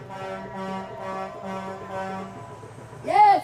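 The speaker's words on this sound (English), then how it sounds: "Yes, keep honking, keep honking." Car horns honk repeatedly in a drawn-out series of long tones, with a brief louder warbling tone near the end, at a Milwaukee street gathering following a fatal apartment fire.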